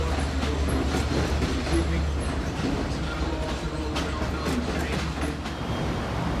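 A Long Island Rail Road train, number 418, rolls through the switches and crossovers of Hall interlocking near Jamaica, a loud, steady rumble and rattle of wheels that carries unbroken throughout.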